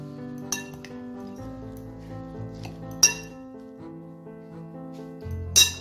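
A spoon clinks against a bowl while mixed vegetable pickle of carrot, radish and chili is stirred with vinegar, a few sharp ringing taps spaced apart over a quiet background hum.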